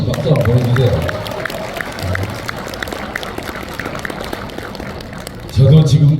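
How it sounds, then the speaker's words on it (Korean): An audience at a Korean book launch event applauds, with a steady wash of many hands clapping at close range, mixed with crowd noise. "여러분 동의하시면 박수 한번 보내주세요"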